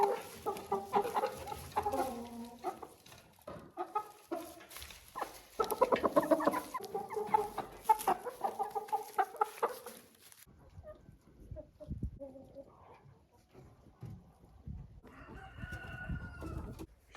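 Caged chickens and young chicks cluck and call repeatedly near a hen house with turkeys, busy overlapping calls for the first half, then sparser, quieter clucks and scattered sounds.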